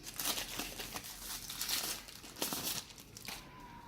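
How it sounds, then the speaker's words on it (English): Plastic packaging crinkles and rustles up close as a Xiaomi Mi 20000mAh Power Bank 2C is unwrapped, a few quiet crackling handling sounds in a short burst. "So let's unwrap this one."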